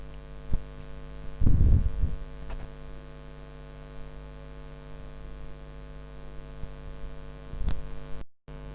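An electric fan wired to a sensor device runs with a steady low electrical hum, broken by a few soft thumps near the start and again toward the end.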